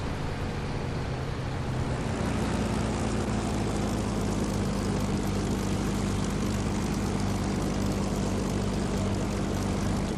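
Spitfire Mk.VB fighter taxiing toward the runway, its piston engine and propeller holding a loud, steady, close drone with a deep throbbing hum throughout, no voices.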